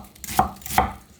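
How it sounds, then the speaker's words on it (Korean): A knife chops vegetables into thick strips on a cutting board for a Korean noodle dish, with two crisp, close chops about half a second apart and no talking. "굵은 채 써세요."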